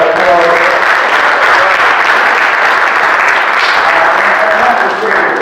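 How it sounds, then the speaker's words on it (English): A large crowd applauding Matt Stevens at a fathers' conference, loud and close, a thick continuous roar of clapping with some voices and cheers mixed in, easing slightly at the very end. "Let's give Matt Stevens a round of applause."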